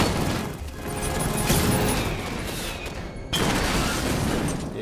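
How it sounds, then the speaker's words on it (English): Homing missiles and cannons fire together in a Batman Arkham Knight battle, a loud, dense barrage of booms and rapid shots that swells and continues without a break, with a sharp new blast near the end. "it was firing both homing missiles and cannons"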